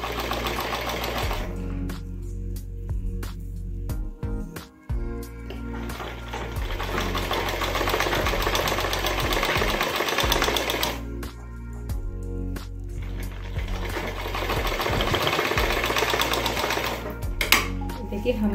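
A sewing machine stitches an invisible zip into the side of a blouse, running in two long loud whirring bursts with a short pause between, close up.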